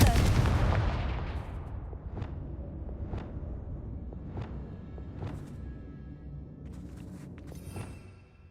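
A Confringo fire spell blast in Hogwarts Legacy opens with a loud, broad burst that fades out, followed by a string of sharper impacts spaced about a second apart, all with no talk.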